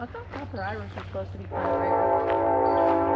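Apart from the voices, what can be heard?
train passing, horn sounding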